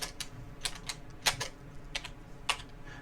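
Parcel number keyed into a computer keyboard for an online county map search, a few separate, crisp keystrokes spaced irregularly over a low background hiss, close by.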